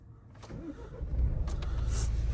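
A Nissan Qashqai J10 1.6 dCi diesel engine cranks briefly and catches, then settles into a steady low rumble close by, with no talking.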